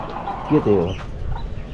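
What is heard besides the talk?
small chickens, chicks clucking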